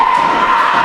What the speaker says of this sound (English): The crowd's coming alive.